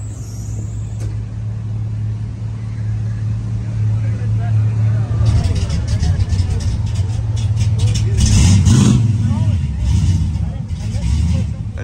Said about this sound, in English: You hear the sound of the motors.